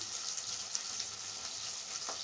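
Okra (bhindi) frying in a pan, giving a steady, close hiss of sizzling oil with faint crackles throughout and no voices.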